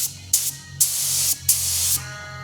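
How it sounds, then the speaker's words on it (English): Candy paint spits from a spray gun in four short test bursts, each a sharp hiss separated by brief pauses, with a low steady hum underneath. "I already know we got to do a couple test sprays."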